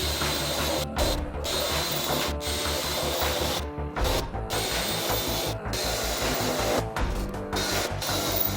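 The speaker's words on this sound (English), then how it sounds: "So after drilling all these out right around here" A power drill bores out spot welds on an old car's steel front guard near the headlight bucket, whining steadily in long close runs with brief stops between holes.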